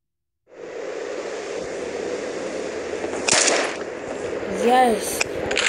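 AUG rifle fire in the mobile shooter Critical Ops, a steady crackling barrage over constant game noise, with a louder burst partway through; no talking.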